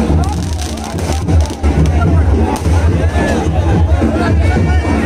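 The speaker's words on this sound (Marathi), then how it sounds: "आणि इथे तुम्ही पाहू शकता अलोट गर्दी जमलेली आहे या रथोत्सवाला" Dense crowd of devotees gathered for a Mahashivratri temple chariot festival at Shri Swayambhu Rameshwar temple in Anav, a loud, steady babble of many voices filling the space, with a person talking nearby.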